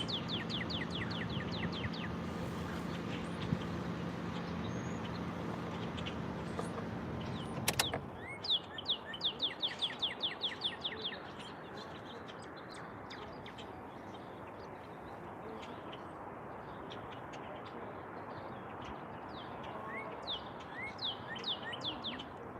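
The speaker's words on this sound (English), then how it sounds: "You can hear the birds chirping." Birds chirping outdoors in a small town, repeated quick high tweets and trills at moderate distance, over a low hum that drops away partway through after a brief clunk.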